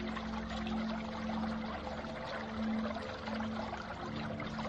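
Water bubbles and pours in a dramatized soundscape, a soft continuous gurgling wash with a low steady hum beneath, swelling slightly in waves.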